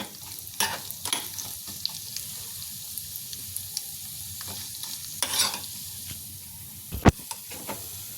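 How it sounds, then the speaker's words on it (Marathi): Grated carrots roasting in ghee on a low flame for gajar halwa, a gentle continuous sizzle and hiss with scattered spatula stirs and one sharp clank near the end, quiet and close. "ह्या अशा पद्धतीने एकदम बारीक गॅसवर हे भाजायचे"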